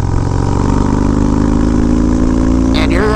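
A Harley motorcycle engine fitted with a quarter-turn throttle rumbles loudly and steadily up close, with a rising rev near the end and a voice over the engine.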